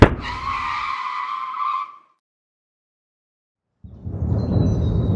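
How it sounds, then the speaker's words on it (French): A car tire bursts on a forest road: a loud, sudden bang with harsh broadband noise and tonal squeal lasting about two seconds, then near silence before a rumbling, rolling noise rises again near the end. "C'est alors que la voiture décide de faire des siennes et un pneu éclate en pleine forêt."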